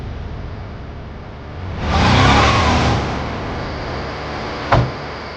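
A car engine rises in a brief revving surge, then quickly settles back to a low idle, followed by a single sharp thump like a door shutting nearby.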